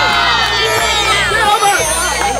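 An indoor audience at an all-star sports gathering claps and cheers loudly in a short burst, with whoops and babble mixed in.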